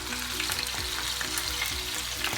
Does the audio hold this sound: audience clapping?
no